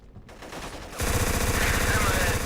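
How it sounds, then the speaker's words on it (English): An Uzi submachine gun fires in the video game Black: after a quiet start, loud, rapid bursts of close automatic fire hammer steadily for the final second and a half. "Let's use this hidden Uzi."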